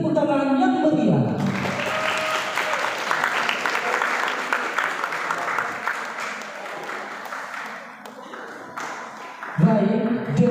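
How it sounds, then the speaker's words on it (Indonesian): An audience claps warmly after a girls' category Syarhil Quran performance at a competition in Sorong, dense applause filling most of the stretch, with voices heard at the start and end. "Beri tepuk tangan yang meriah."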